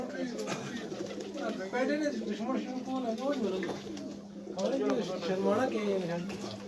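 Pigeons kept on a rooftop in Islamabad coo in repeated, rolling phrases close by, their calls running steadily under a voice speaking.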